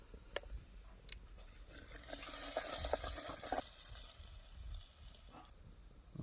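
Homemade black masala fries in hot oil in a handi for mutton rassa, a faint sizzle that swells to a louder hiss in the middle, broken by a few light clinks, with no voices.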